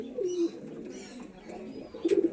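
Domestic pigeons kept for sale at a home loft coo softly in two low rolling phrases, one near the start and another near the end, over a quiet room background.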